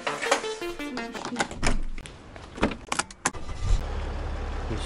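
A car starts off for a late-night drive, with clicks and mechanical rattles at first and then a low engine rumble that builds and holds steady, fairly close and without voices.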